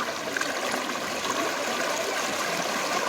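Rainwater runs over a road in steady, broadband rushing flow, close and continuous for the whole stretch, like a stream, with no talk over it.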